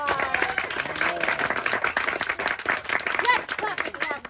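Audience applause mixed with crowd voices and cheering at a school geology presentation, steady clapping and chatter throughout, fairly loud and busy with talk over it.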